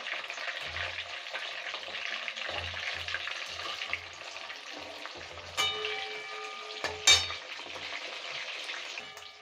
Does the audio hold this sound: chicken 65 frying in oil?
yes